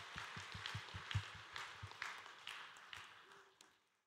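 A church congregation at a Sunday worship service in Korea clapping together in blessing, quiet, somewhat distant applause with irregular claps that gradually thin out and fade to silence.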